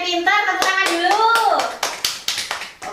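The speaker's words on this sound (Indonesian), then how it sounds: "Oke, pintar, tepuk tangan dulu." A voice is followed by a few sharp, close hand claps from high school students in a sociology classroom. The claps come as separate, fairly even beats rather than a sustained round.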